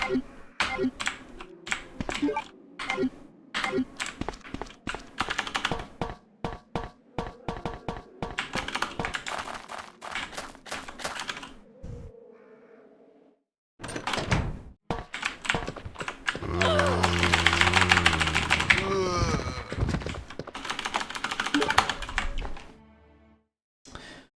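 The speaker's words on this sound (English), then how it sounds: "if I was to use keyboard now, it should be a bit quieter" Computer keyboard typing in rapid bursts of close, crisp key taps, pausing briefly and then resuming more densely, with some game sound beneath during a Resident Evil 2 stream.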